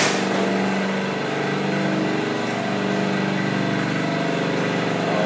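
An M&R style screen printing press with squeegees, clamps, indexing and air valves runs steadily, a continuous mechanical hum with low engine-like drone and no voices, close and even throughout.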